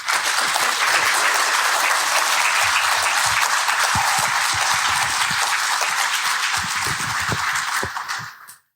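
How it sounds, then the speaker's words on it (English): Sustained audience applause for people who shared their stories, a dense steady wash of many hands clapping at an event, holding loud throughout before quickly fading out at the end. "A round of applause for everyone who has shared a story."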